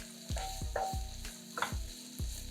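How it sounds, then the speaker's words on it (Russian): Mixed vegetables with freshly chopped bell pepper fry in a pan with a constant close sizzle, broken by repeated scraping stirs every half second or so, some with a faint metallic clink. "Перемешиваем и готовим еще 2-3 минуты."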